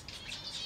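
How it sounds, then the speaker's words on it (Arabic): Bulbul chicks chirp in a nest basket inside a bird aviary as they are fed, a faint, steady high twittering with no voices over it. "هاي صوت زق الافراخ باعودهن"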